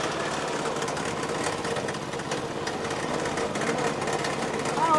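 Sugarcane juice machine crushing sugarcane stalks at a roadside stall in Islamabad, a steady mechanical motor drone with grinding texture and busy street noise around it.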